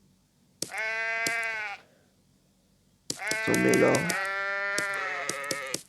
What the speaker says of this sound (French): Je vais directement commencer à mettre des moutons.